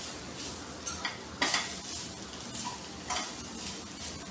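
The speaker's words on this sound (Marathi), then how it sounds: "आता मी ह्याच्यात घालणार आहे ही कोथिंबीर, आणि पुन्हा एकदा हे सर्व ढवळणार आहे असं" Malvani masala with fresh coriander is stirred and roasted in a pan: a continuous dry sizzle with repeated scraping strokes of a spatula, close and fairly loud.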